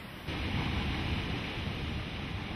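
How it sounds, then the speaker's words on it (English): Steady, dense rush of a waterfall in Yosemite National Park, California, a broad roaring wash that swells slightly after the first moment and holds constant with no voices. "By early summer, the sound of water thunders throughout the park."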